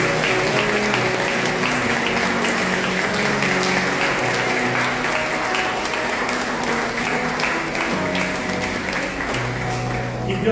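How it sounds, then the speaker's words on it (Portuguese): Congregation applauding during a Catholic Mass in Bauru, a continuous wash of many hands clapping that holds steady and loud in a reverberant church, with a low hum of music or voices beneath. "Uma salva de palmas para os dois"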